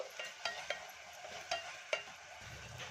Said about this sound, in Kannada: ಈಗ ಚೆನ್ನಾಗಿ ಫ್ರೈ ಮಾಡ್ಕೊಳ್ಳೋಣ ನೋಡಿ ಇದು ಕೂಡ ಅಷ್ಟೇ ಒಂದೆರಡು ಸೆಕೆಂಡು ಫ್ರೈ ಮಾಡಿಕೊಂಡ್ರೆ ಸಾಕು